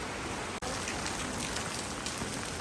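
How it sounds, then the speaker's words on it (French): Steady rain falls and patters on a surface in a constant, even hiss with no other sounds. "Je vais sortir mon parapluie. Il pleut."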